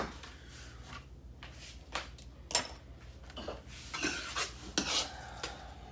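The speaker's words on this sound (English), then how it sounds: "stop clacking your spoon" A spoon clacks and scrapes against a dish during keto stuffed bell pepper prep, giving soft irregular clinks and stirring sounds spread across a quiet kitchen background, with a few sharper hits.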